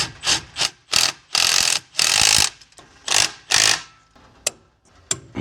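Hand ratchet clicking in repeated bursts as it tightens the bolts on a boat trailer's rear disc brake caliper, close and loud, with short pauses between strokes and a few single clicks at the end.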